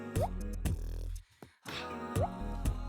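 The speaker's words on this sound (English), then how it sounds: "Add vinegar." Vinegar poured into homemade mayonnaise made from egg, sugar, salt and oil, giving two short wet drips and plops close up over a low steady hum, with no talking.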